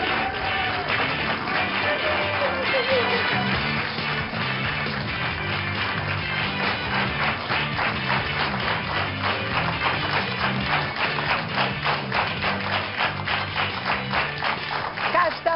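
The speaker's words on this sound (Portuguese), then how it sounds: "Um forte aplauso para os doutores do Boa Tarde." Studio audience on a Portuguese afternoon TV talk show clapping in sustained applause, steady dense patter of many hands close and loud throughout, with music underneath.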